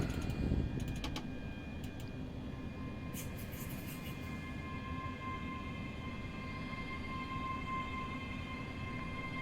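A Class 385 electric train in Train Simulator Classic gets underway from Glasgow Queen Street toward Alloa, a steady low rumble and hum with a few faint clicks and tones early on, no voices.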